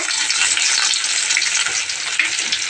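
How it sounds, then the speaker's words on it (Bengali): Chopped garlic added to hot oil with mustard seeds spits and sizzles steadily and close up, a loud continuous frying hiss with no talking while raw green tomato chorchori is cooked. "তেলটা গরম হয়েছে সর্ষে ফোড়ন দিই সর্ষে ফোড়ন দিয়ে দিয়েছি এবার আমি রসুন কাটা দিয়ে দেবো"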